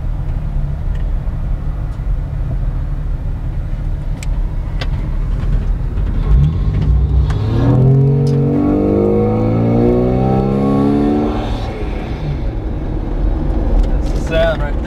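A Jeep Wrangler fitted with a Spectre air intake revs loudly up close, its engine note rising in a sweeping climb through the middle of the run and then easing back down.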